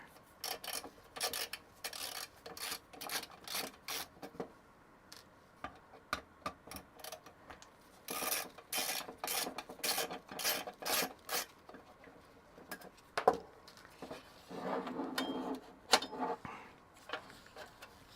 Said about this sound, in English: we've now taken out 4 screws. There's 2 more here.